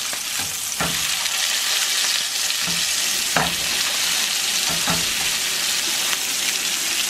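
Filet mignon steak sizzling in a pan, a loud continuous sear with a few sharp spatters and clinks of the pan or utensil, close up and with no voices.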